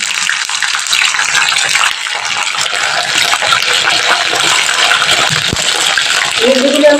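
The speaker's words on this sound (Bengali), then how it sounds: "তেলটা আমার গরম হয়ে গেছে, এবার তেলের মধ্যে আমি ভেন্ডিগুলো দিয়ে দিচ্ছি।" Washed okra (bhindi) dropped into hot oil for a restaurant-style curry: a loud, continuous hissing spatter as water hits the oil, steady throughout with a faint voice underneath.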